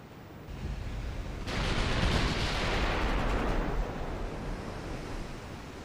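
Naval artillery fires in the warship game Ultimate Admiral Dreadnoughts: a sudden loud blast erupts over steady sea-like rumble and swells into a long roaring wash before easing back to the background din.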